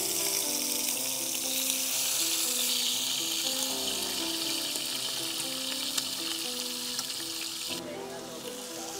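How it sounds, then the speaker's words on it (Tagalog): Chicken frying in a pan at a campsite produces a steady, bright sizzle throughout, with a faint tonal hum and a soft voice underneath. "pinirito ko muna kasi nga nakakulob siya eh"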